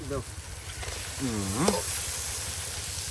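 Giant freshwater prawns hit sizzling spice masala in a pan at the edge of the Sundarbans forest, giving a steady close hiss with brief rising vocal-like cries over it.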